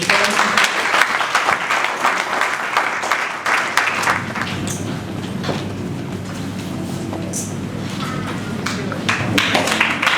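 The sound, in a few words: audience applauding at a ceremony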